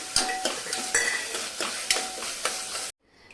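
Finely chopped large onion sizzles loudly in a hot pan of oil, with rhythmic stirring strokes about every half second for nearly three seconds, then the sound cuts to near silence.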